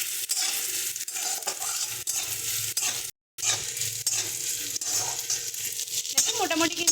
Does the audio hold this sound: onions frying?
yes